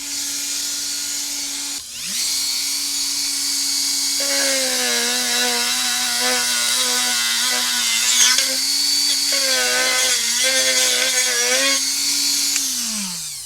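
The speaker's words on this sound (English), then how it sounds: "So that was my Dremel, and I just use that to cut it off near the surface because they're blocking the way for the battery." A Dremel rotary tool cuts off plastic stems inside a Bachmann K27 model train tender. Its steady, high, close motor whine runs for about eleven seconds, dips in pitch as it bites into the plastic, then winds down at the end.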